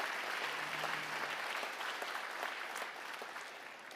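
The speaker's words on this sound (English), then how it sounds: "Can we give Madison another round of applause" An audience at an awards ceremony gives sustained applause, a dense wash of clapping that carries evenly and fades slightly toward the end.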